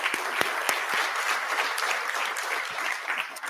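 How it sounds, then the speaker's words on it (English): An audience in a hall applauds steadily throughout at a school district address, with dense, even clapping and a few sharper individual claps. "Give yourselves a round of applause."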